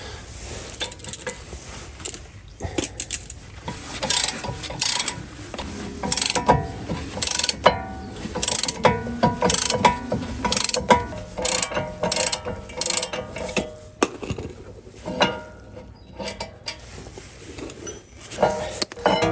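A socket wrench with a 15mm socket ratchets as the rear brake caliper support comes off a 2017 Ford Kuga Mk2, giving uneven bursts of quick metallic clicks with clanks of tools and parts between them.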